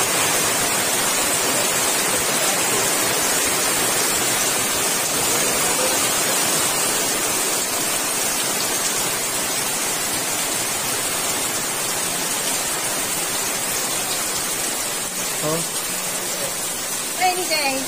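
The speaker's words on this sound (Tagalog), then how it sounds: "Rainy day." Steady rain falling on a day of replacing corrugated metal roofing sheets, a dense, even hiss that fills the whole stretch without letup, loud and continuous.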